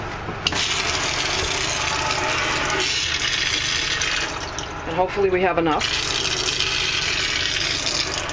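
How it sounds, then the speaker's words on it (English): A steady mechanical pump hum with rushing, running water throughout as a pump fills a tub, close by, and a person speaking briefly over it. "so now it's gonna pump up water."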